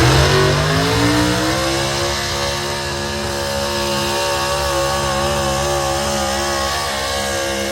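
A super stock pulling truck's engine revs hard at a truck pull on a dirt track, its loud, steady roar holding high rpm with a rising pitch and no letup, and no voices are heard.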